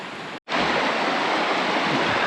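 A brook flows steadily close by, a dense, even rushing of water that drops out for a split second and then resumes at full strength.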